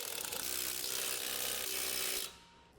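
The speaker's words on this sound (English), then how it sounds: "Using the 14mm socket, this will be torqued to 44 foot-pounds." Rapid mechanical clicking and whirring from a tool driving a bolt with a 14mm socket while a rubber spring kit goes onto an Acura MDX. The close, loud sound runs steadily for about two seconds, then cuts off abruptly.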